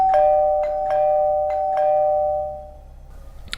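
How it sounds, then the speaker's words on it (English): A doorbell downstairs rings in a string of bright, steady chimes, about five quick strikes over a sustained tone that fades out, with no other sound around it. "Then somebody began to ring the doorbell downstairs."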